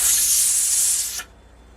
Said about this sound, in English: the steam is coming out of that vent pipe, and I have been venting it for 10 minutes